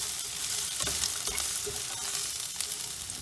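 Chicken breast and vegetables stir-fry in a small pan, giving a close, continuous sizzle with light scraping and stirring taps throughout, and no voices.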